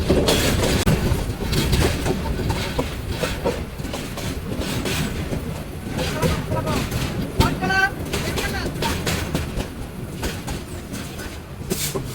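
The Mohanogor Express, a metre-gauge train on the Chittagong–Dhaka line near Brahmanbaria, runs with a steady rumble and rhythmic wheel clatter, a brief squeal midway, while people talk over it.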